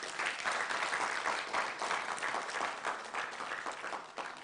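An audience at a moot court competition final applauds a university team, producing steady, continuous clapping from many hands at a moderate, somewhat distant level.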